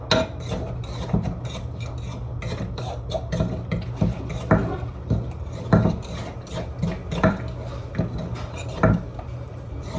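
Snack ingredients seasoned with a pinch of MSG are mixed in a bowl, giving steady scraping and rubbing with sharper utensil clacks against the bowl, close and fairly loud throughout with no talking.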